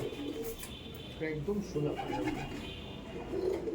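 A female pigeon at a loft coos in soft, low repeated phrases, close by, with a person talking over the calls throughout.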